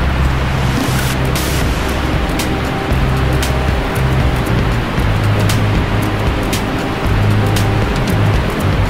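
The roar of Niagara Falls from Luna Island on the American side: a dense, unbroken rush of falling water, with some wind buffeting, steady and loud throughout.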